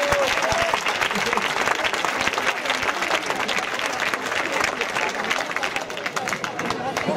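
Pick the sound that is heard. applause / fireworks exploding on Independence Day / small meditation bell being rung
applause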